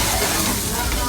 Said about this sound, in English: does everybody hear that popping?